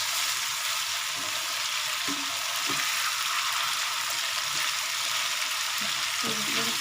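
Cauliflower florets frying with salt in a pan make a steady, even sizzle throughout, with a few soft scrapes and stirs.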